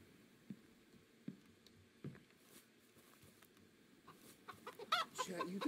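Chickens cluck softly in a video game amid scattered light taps and patter, with the clucking growing busier and louder near the end.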